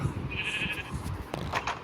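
Sheep bleat in the Minecraft video game, two drawn-out, wavering bleats close by over a busy low background of game ambience, with no talking.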